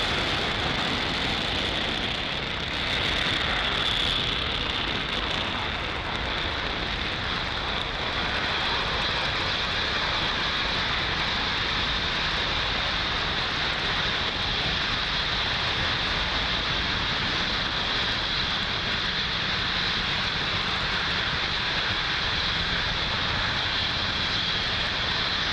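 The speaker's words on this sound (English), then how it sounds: "Falcon 9 has successfully lifted off from Pad 40 at Cape Canaveral" A SpaceX Falcon 9 rocket lifting off from Pad 40 at Cape Canaveral, carrying 40 OneWeb internet satellites: a loud, steady, broadband roar that holds unbroken throughout, with no voices.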